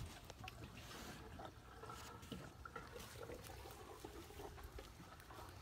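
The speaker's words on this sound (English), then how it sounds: "Pour some gas in it." Gasoline pours into the empty fuel tank of a Subaru WRX at night, a quiet, irregular trickling and gurgling that runs steadily throughout.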